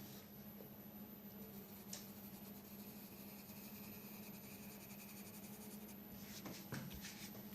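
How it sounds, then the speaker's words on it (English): An HB pencil moves freehand across paper, a faint, close scratching that runs steadily with a few brief louder strokes and no voices. "I need to make it fair with my HB pencil with freehand."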